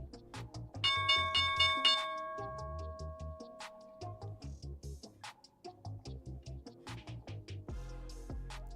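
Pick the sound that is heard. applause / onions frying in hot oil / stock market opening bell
stock market opening bell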